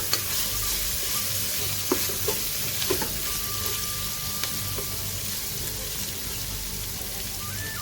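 Onions cooking in a pan, a soft constant sizzle with occasional spoon scrapes and taps as they are stirred.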